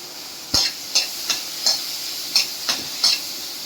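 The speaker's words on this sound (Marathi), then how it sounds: "परत एकदा असं छान परतून घ्यायचं" Green chilies sauté in a pan over low heat with lemon juice squeezed in. A spatula scrapes the pan seven times in an even rhythm over a steady close sizzle.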